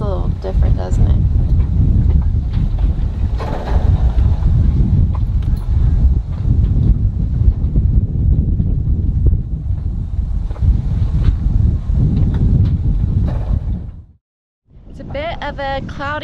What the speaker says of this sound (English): I know you guys can't hear me with that wind.